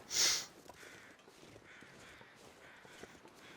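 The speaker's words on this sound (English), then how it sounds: "since we hear the crows or ravens" A single loud crow or raven caw rings out at the start in a video game, followed by quiet ambient outdoor noise and faint footsteps.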